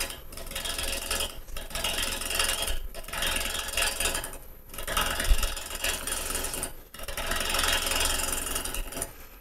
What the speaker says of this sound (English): I generally will use a gouge for this type of roughing. Start on the ends first. Nibble away.